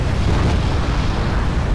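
Dense, continuous rumbling artillery barrage from the video game Wargame, heavy low booms blending into a steady roar that fills the whole stretch without a break.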